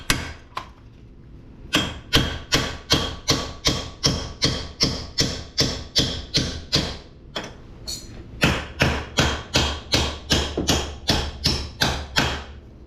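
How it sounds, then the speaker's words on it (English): A dead blow hammer tapping a press-fit part into the steering knuckle of a Gen 2 Chevy Cruze during a coilover install, a long run of sharp, evenly spaced thuds at close range with one brief pause. "So then I take a hammer, dead blow"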